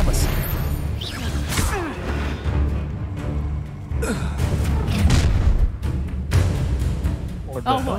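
The Expelliarmus spell is cast in the Hogwarts Legacy video game with a booming magical whoosh and crash. Other spell effects follow, and game voices gasp and sigh over the action.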